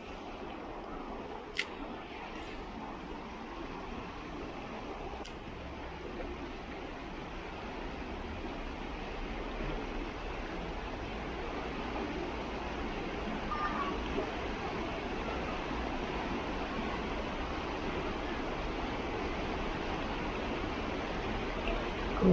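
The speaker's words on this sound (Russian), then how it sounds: "приятный шум реки" Steady broadband rushing of the Volme river flowing nearby in Germany, constant and even throughout, with a couple of faint clicks early on.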